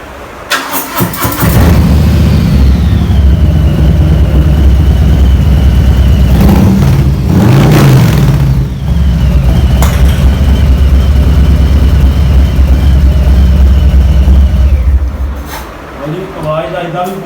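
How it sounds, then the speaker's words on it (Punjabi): A superbike engine fires up, then roars loud and close with deep exhaust revs that swell and dip before it settles and fades near the end. Someone talks over the noise. "ਹੁਣ ਸੁਣਾਉਣਗੇ ਆਪਾਂ ਨੂੰ ਇਹਦੀ ਐਗਜ਼ੌਸਟ ਦੀ ਆਵਾਜ਼"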